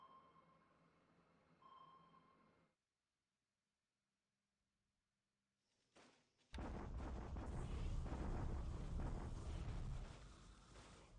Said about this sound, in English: these are these are just the daily bombardments